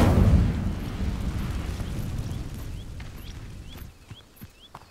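Incendio fire spell cast in Hogwarts Legacy, a loud whooshing burst that swells at the start and then trails off into a crackling, fading roar with small pops and chirps.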